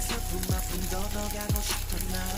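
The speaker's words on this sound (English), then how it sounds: "And now we will add our curry leaves, which are a part of the magic masala." Curry leaves drop into a hot pan of masala with green chili and fry, giving a steady close crackling sizzle broken by a couple of soft thumps of a spoon stirring.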